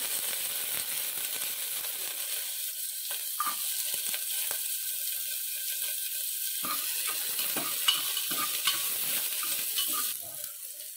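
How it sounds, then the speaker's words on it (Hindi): Finely chopped onion fries in hot oil with cloves in a pan for chicken shami kababs, giving a steady close sizzle broken by light clicks and scrapes of stirring. "गोटे पियाज को मु छोट छोट काटी देइथिली ताकू टिके भाजी देबा।"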